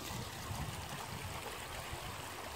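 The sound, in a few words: Dutcher Creek stream flowing through woods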